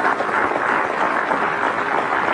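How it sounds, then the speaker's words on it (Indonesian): Studio audience applause on a television show, a dense, even wash of many hands clapping at steady loudness throughout, with no voices over it. "kita kasih tepuk tangan sekali lagi buat Kayla yang banget."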